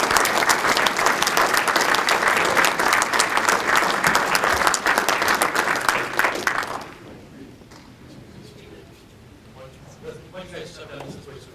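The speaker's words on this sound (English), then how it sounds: "a round of applause" Sustained audience applause at a county bicentennial celebration kick-off, a full room clapping loudly for about seven seconds before it fades to scattered claps and quiet room noise.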